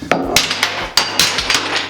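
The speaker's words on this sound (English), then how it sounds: "Just hit it with a hammer." A hammer strikes a fiberglass tub surround, breaking out its pieces during removal. About seven sharp, loud impacts land in quick, uneven succession, close up with no talking.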